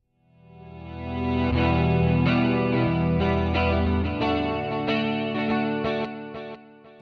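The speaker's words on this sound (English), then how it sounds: "I cut off the beginning, reverse it, sometimes with additional reverb or delay or both, and then paste it in front." Reversed musical sound with added reverb and delay, swelling up from silence into sustained, shimmering chords with echoing repeats, then gradually fading away, with no voices.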